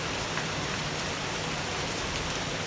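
Steady rain falls on a hot afternoon, a continuous even hiss of drops that stays constant and fairly loud throughout, with no voices.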